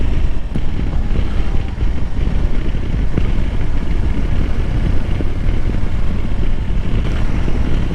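Riding a Honda Africa Twin DCT motorcycle in sport mode while engine braking, with a steady low engine drone buried under heavy rushing wind noise, loud and continuous.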